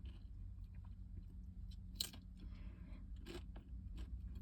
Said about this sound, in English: For those of you who can't stand the sound of eating and crunching